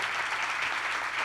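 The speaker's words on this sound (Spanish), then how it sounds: "un aplauso para la gente." A short burst of studio audience applause on a television talk show, a dense, even wash of clapping heard alone for about a second.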